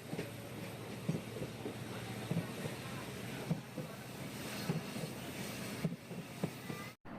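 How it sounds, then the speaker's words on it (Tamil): The Guruvayur Express pulls out of Tenkasi station, a steady rolling rumble with faint rhythmic clatter of the carriages throughout, heard from inside the train and continuous until a brief dropout near the end. "நம்ம வண்டி இப்போது தென்காசிலேருந்து கிளம்பிடுச்சுங்க."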